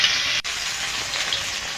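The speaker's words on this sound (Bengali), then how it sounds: "আমি বাকিগুলো সব এভাবে ভেজে নেব।" Paneer pieces sizzle continuously in hot oil, a close, even crackling hiss broken once by a brief dip, with no voices present.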